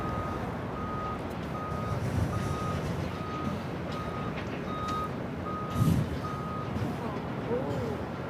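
A vehicle's reversing alarm beeps steadily at LAX airport, evenly spaced tones about every half second over a loud background rumble of engines and airport noise, with faint voices.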